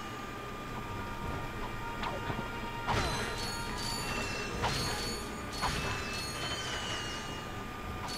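In Ratchet & Clank, bolts being picked up make a run of metallic clanks, rattles and jingly pickup chimes over game background sound. The bursts come repeatedly through the stretch at moderate loudness.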